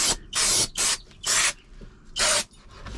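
Brake cleaner hisses from an aerosol can in four sharp, close bursts of roughly a third of a second each, with short pauses between them, while cleaning a Honda Element intake manifold.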